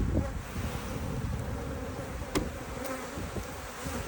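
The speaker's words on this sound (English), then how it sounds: "Okay, so I'm going to shake the bees off." Honey bees shaken off a hive frame during a split buzz in a dense, steady drone close by, with a few sharp bumps from the frame being knocked.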